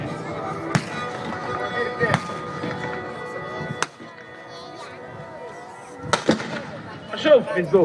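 Artillery booms at an outdoor war reenactment in Poznań, several sharp loud blasts spaced a few seconds apart, echoing across an open field while an announcer talks over them.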